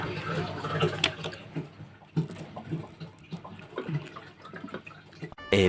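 Water runs in and out of a fish tank being drained, with a steady gurgling and splashing flow at moderate level and occasional knocks and handling sounds.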